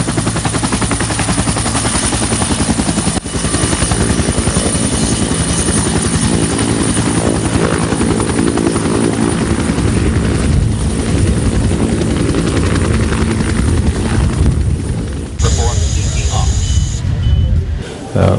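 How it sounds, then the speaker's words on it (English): A Sri Lanka Air Force Bell 212 helicopter's rotor chops and whines continuously at close range, with a voice talking over the heavy mechanical roar. "a Sri Lanka Air Force Bell 212 helicopter had been dispatched"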